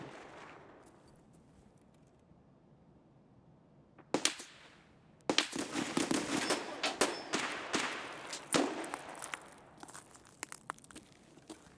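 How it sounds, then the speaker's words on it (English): Gunfire in Escape from Tarkov on a snowy map, heard as scattered sharp cracks and rapid bursts from a distance after a quiet opening, with a few louder shots near the end. "Who are they shooting at?"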